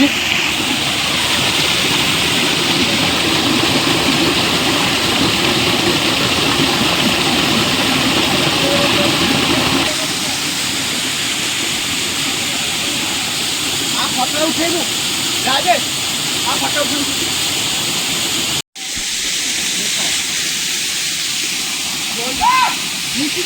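Water rushes loudly and steadily at Chakratirtha waterfall, a picnic spot in Keonjhar, Odisha, a constant roar that eases a little partway through, with a voice speaking close by.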